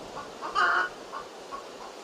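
A few short clucks from a single cockerel, close by, with one louder throaty cluck in the middle.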